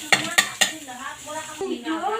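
Garlic goes into hot oil in a pan while cooking red crabs with vegetables. Three sharp utensil clanks come first, then a sizzle and stirring under a voice that is partly singing.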